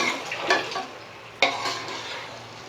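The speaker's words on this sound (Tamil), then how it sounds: "நம்ம மேரினேட் பண்ணி வச்சுருக்கிற சிக்கனை இதில் சேர்த்துற வேண்டியது தான். சேர்த்துட்டு இதை நல்லா கலந்து விட்டுடலாம்." Marinated chicken going into a pot of hot masala and being stirred, with two scraping bursts of spoon against metal over a soft sizzle.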